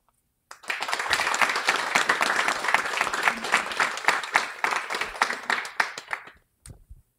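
Crowd clapping at a guide dog graduation, steady applause from an audience that starts abruptly, holds for several seconds, then tapers into a few final claps.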